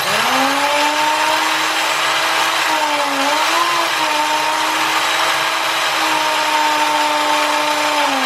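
A power drill whines steadily and loudly at close range, its pitch dipping briefly midway before holding steady again.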